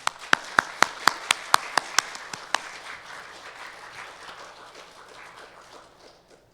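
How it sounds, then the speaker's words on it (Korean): Korean church congregation welcoming a visiting pastor with applause: a run of loud, rhythmic claps in steady time, then a softer scattered patter that gradually fades out. "우리 노만교회의 따뜻한 그리고 감사의 박수로 모시도록 하겠습니다"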